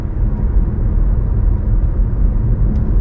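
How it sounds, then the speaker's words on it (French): Inside an electric car cruising at 70 km/h, a steady low tyre rolling rumble fills the cabin, continuous and even, with no voices. "J'entends juste un petit peu de bruit de roulement."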